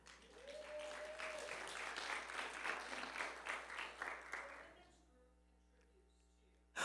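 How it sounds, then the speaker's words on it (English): Church congregation at an open forum applauding together, a steady dense wash of clapping for about five seconds with some voices mixed in, then fading into a quiet room. "So that's worth a clap."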